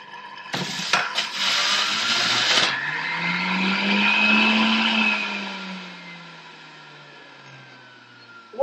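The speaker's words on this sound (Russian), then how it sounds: "берем огурчик, выдавливаем с него сок" A cucumber squeezed or pressed for juice, likely in a juicer or blender, gives a loud whirring mechanical burst lasting a few seconds, then a steady fading hum, with no talking.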